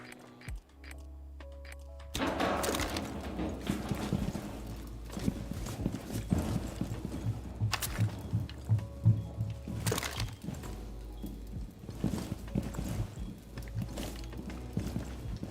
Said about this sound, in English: I keep hearing footsteps